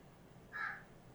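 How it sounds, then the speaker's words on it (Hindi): A single crow caws once, a brief mid-pitched call rising out of a quiet, low background hum, with no talking around it. "कौवा क्यों बोल रहा है"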